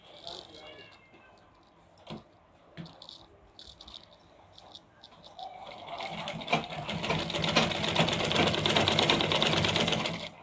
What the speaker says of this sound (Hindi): इस तरह अब हम इस पे मशीन चलाएंगे।